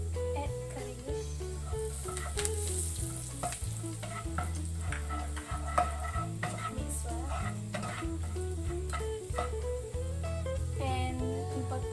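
Chili padi and curry leaves stirred in a hot pan for buttermilk chicken, with a steady sizzle under repeated scraping strokes of a utensil and steady background music throughout.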